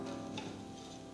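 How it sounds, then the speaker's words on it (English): Bitter gourd slices fry in a pan on medium heat, giving a faint, steady sizzle with soft crackles throughout. "continue to fry the slices till you get a nice rich brown color"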